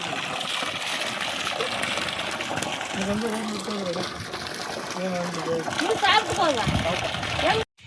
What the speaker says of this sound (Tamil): ஃபிட் பண்ணி முடிச்சுட்டு தண்ணி என்ன ப்ரெஷரில் வருதுன்னு சொல்லிவிட்டு பார்ப்போம்